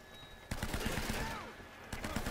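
Gunfire from the video game Uncharted arrives in rapid bursts, a close, rattling volley of shots after a brief quiet opening, with another burst near the end.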